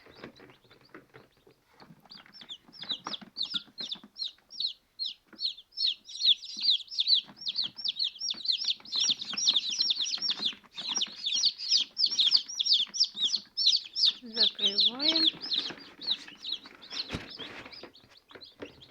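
Newly hatched chicks on the second day of hatching, cheeping rapidly and continuously in a dense, high-pitched chorus, close by and steady throughout.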